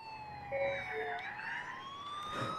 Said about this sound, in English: I mean, I am riding in an ambulance